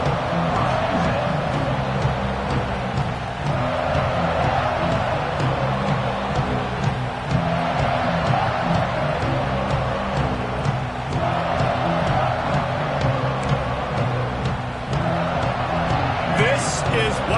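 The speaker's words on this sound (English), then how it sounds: "This crowd ready to make its presence known." A football stadium crowd at an LSU game roars steadily throughout, loud and continuous, with a commentator talking over it.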